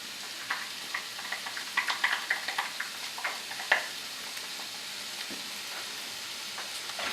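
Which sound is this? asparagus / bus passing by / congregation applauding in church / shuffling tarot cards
asparagus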